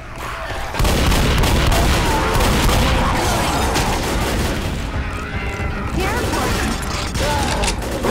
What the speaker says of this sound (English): I'm hitting you with a shotgun and nothing's happening.